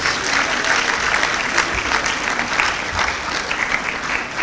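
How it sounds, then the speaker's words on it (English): A large crowd at a graduation ceremony applauds steadily, dense clapping holding at an even level throughout without pause. "Please give yourselves another round of applause, please."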